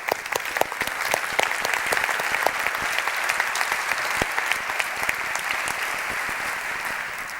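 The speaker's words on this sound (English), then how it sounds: "So let's give them another round of applause." A conference audience breaks into a sustained round of applause, dense and steady clapping from a large crowd that holds throughout with no speech.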